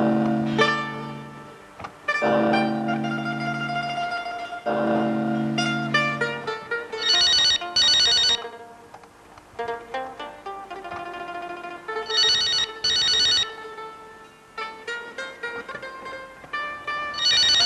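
A telephone rings repeatedly with an electronic ringtone, bursts of bright tones separated by short gaps over several cycles, clear and close with no talking.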